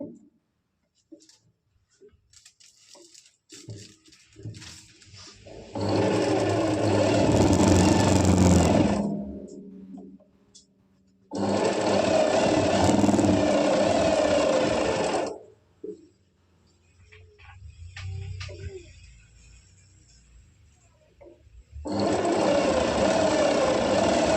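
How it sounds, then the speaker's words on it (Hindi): A sewing machine stitches the crotch seam of an elastic-waist palazzo in three long, loud, steady bursts with quiet pauses and faint handling between them, close up and with no talk. "अब हम प्लाजो के बैक पार्ट को भी यहाँ से इसके क्रोच में सिलाई लगा लेंगे।"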